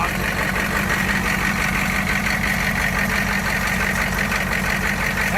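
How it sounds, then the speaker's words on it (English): A monster truck diesel engine on 53-inch tires idles loudly and up close, a steady rumbling drone with a rhythmic knocking pulse that continues without a break. "Oh yeah, listen to that diesel."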